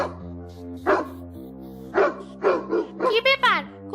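A cartoon dog barks angrily in several short bursts, closing with a quick run of yips, heard over a steady musical soundtrack.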